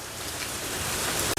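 Rain falls steadily as a dense, even hiss of drops, close and continuous, ending in a sudden brief drop-out.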